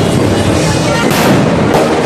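New Year firecrackers and fireworks burst loudly and repeatedly close by, a dense barrage of sharp pops and booms with voices mixed in.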